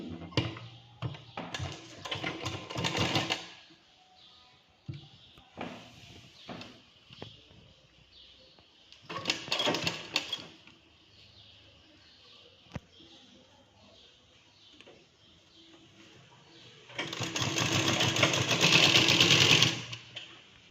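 A sewing machine stitches a blouse in three short bursts of fast, close whirring, separated by quieter stretches of handling and soft taps.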